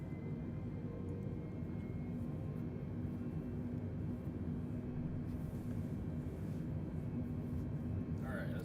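Airbus A320neo takeoff roll in Microsoft Flight Simulator, departing Salt Lake City: a steady, dense engine roar and rumble holding at a constant level throughout, with no talk over it.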